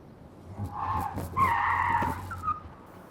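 Tyres of a Mercedes-Benz EQS SUV squeal and skid loudly through a moose-test swerve, a rising screech that peaks midway then fades with a brief final chirp, with no engine roar.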